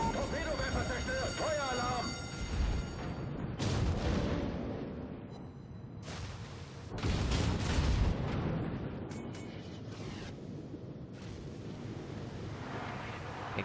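Tirpitz battleship guns fire in World of Warships, several heavy booming salvos with rumbling tails spaced a few seconds apart, over a steady engine and ambient game drone.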